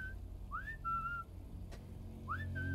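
A whistle blown in the video game Sniper Elite 5 gives short rising two-tone chirps, twice, fairly clear against a low quiet background.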